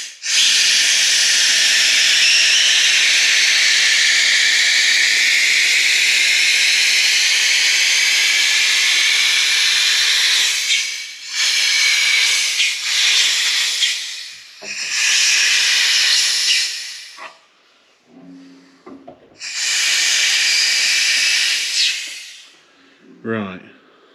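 PU sealer sprays from an air-fed gun onto the steps of a VW T4 van, a loud, steady high hiss lasting about ten seconds, then broken into shorter bursts separated by pauses and faint handling noises.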